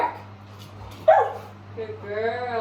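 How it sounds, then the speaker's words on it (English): An adopted greyhound barks on command, a single sharp close bark followed by a higher whining yelp, with a person's voice giving a brief cue beforehand. "Bark."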